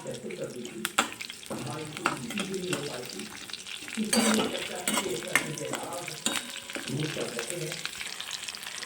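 Cloves, a cinnamon stick and a hot green chili sizzle as they sauté in oil in a pan for restaurant-style chole, with a steady close crackle and occasional spoon stirs and scrapes.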